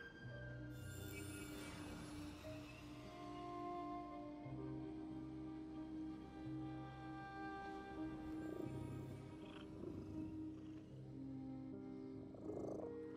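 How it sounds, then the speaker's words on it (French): Steady low purring from a cat in the horror game The Midnight Walk, continuous and fairly close, layered over a droning musical ambience with faint chimes. "Le chat est revenu?"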